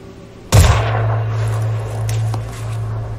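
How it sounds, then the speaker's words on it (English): A pistol shot in the Phoenix Point video game, one sharp loud bang followed by a lingering low hum and a few faint game effects. "Take a pistol shot."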